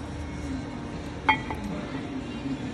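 Metal parts give a single sharp clink, then a fainter second tap, while a Toyota Tacoma front brake caliper is fitted over the rotor, over a quiet room hum.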